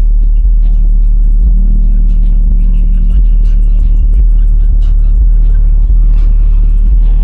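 A Toyota Corolla AE101 engine runs with a steady, deep rumble throughout, loud and close, with faint voices in the background.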